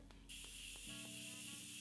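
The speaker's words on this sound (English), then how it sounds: "I'm using the Morphe Continuous Setting Mist." Morphe Continuous Setting Mist sprayed close by, a steady loud fine hiss that starts abruptly and holds for well over a second over a faint low hum, no speech.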